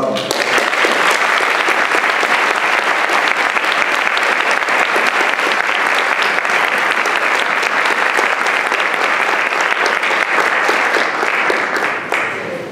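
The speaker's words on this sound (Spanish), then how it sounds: "aplauso para sus papás también" Sustained applause for the parents at a school ceremony, loud and dense clapping from a large audience that holds steady for several seconds before tapering slightly at the end.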